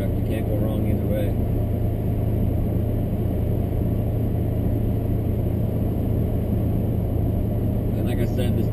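A 2017 Ford F-250 pickup drives along while towing a heavy load on airbag suspension, its engine a steady low hum under continuous road and wind noise, with no pauses.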